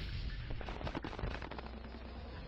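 Fireworks attack in the video game Bleach Death Awakening, a rapid burst of crackling, popping explosions, fairly dense at first and then thinning into a steady hiss.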